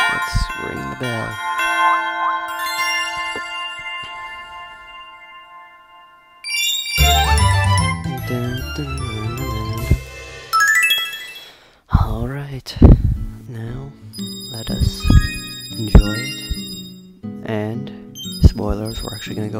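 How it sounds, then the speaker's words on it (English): A bell rings out at a Christmas Eve outing, bright ringing tones that sustain and decay, followed by clanging and jingling with people talking close by. "Let's ring the bell."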